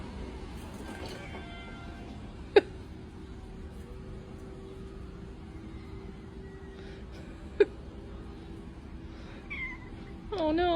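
Feral cats on Maui meow and caterwaul in drawn-out, wavering cries near the end, with a couple of sharp clicks earlier over a low, steady outdoor hum.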